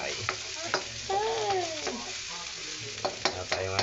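Onions fry and get stirred in a pan at home, giving a steady close sizzle with repeated scraping strokes of the utensil and a brief squeak partway through, with no talking.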